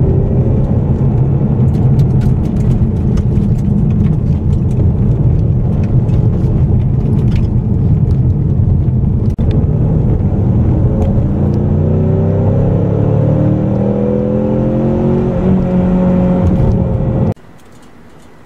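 A 2015 Ford Mustang EcoBoost in sport mode drives on the road with a loud, steady engine and tyre rumble, rising in pitch as it accelerates near the end before cutting to quiet, with no talking.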